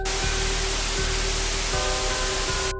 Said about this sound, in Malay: Yang ada bunyi white noise.